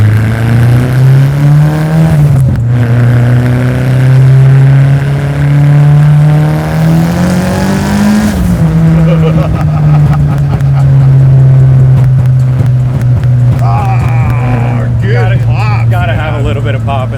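A 630 hp all-wheel-drive Mitsubishi Evo RS pulls hard under acceleration, its engine drone rising through the gears, with crackling exhaust pops near the end and voices talking over it.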